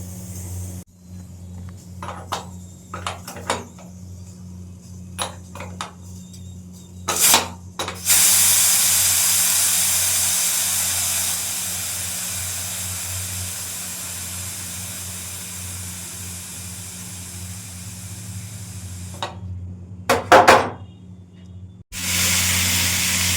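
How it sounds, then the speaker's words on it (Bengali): Raw jackfruit vegetables frying in a little oil, heard as a loud, steady hiss lasting about ten seconds and then cut off, with scattered kitchen clatters before and after. "সবজিটাকে অল্প তেলের মধ্যে ভাজা ভাজা করে নিচ্ছি"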